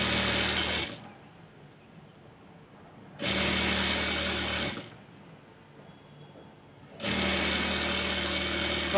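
A sewing machine stitches a side seam of a pan-cut salwar in three loud bursts of steady whirring, separated by quiet pauses.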